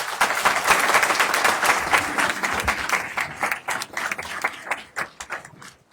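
Sustained applause from a crowd, dense clapping that stays loud for several seconds before thinning out into scattered claps toward the end.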